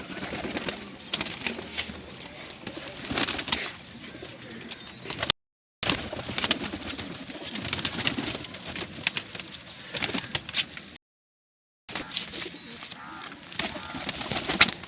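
Saharanpuri cross pigeons coo softly and repeatedly nearby, rustling and shuffling around, with two short breaks of silence.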